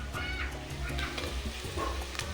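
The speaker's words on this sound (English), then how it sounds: "I stir very well to combine" Black pepper, curry powder, paprika and spices stirred in hot oil for a dark duck stew, a busy close sizzle with scraping stir strokes, alone without talk.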